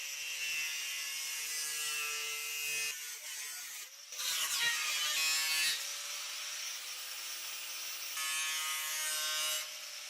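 Angle grinder cutting holes in a thin curved metal drum, a sustained high-pitched abrasive screech that wavers in tone and briefly dips as the cut shifts, fairly close.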